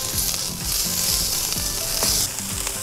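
Shrimp and mango skewers with sesame sizzle on a hot plancha in a loud, continuous close-up frying hiss. Faint rhythmic low clicks run beneath it, and no one speaks.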